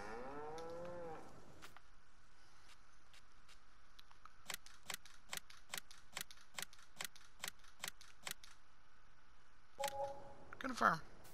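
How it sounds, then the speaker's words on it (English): Cattle moo in the video game Farming Simulator 19 as a herd is delivered: a person talks at the start, followed by a steady run of evenly spaced ticking clicks, then a clear moo near the end. "And I'm gonna get 10 more cows delivered."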